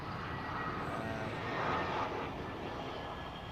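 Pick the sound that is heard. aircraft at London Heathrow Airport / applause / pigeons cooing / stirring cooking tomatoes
aircraft at London Heathrow Airport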